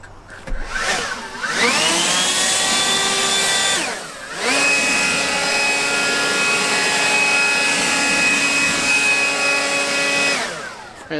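A Toro 60 V FlexForce cordless leaf blower spins up to a loud, steady whine close by, briefly winds down, then revs back up and holds a sustained blowing roar before easing off.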